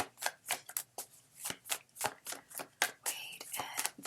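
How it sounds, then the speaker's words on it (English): Tarot cards are shuffled by hand in rapid, rhythmic riffles and slaps, close and fairly quiet, with a soft voice murmuring briefly toward the end. "what I do is I shuffle till only one card falls out"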